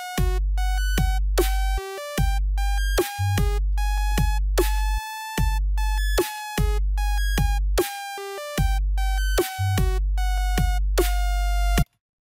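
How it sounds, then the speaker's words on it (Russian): A bright, buzzy sawtooth synth plays a choppy trap lead melody of repeated notes, the pitch stepping up and down four semitones between phrases before cutting off. "Обыкновенная пилообразная волноформа пока что звучит."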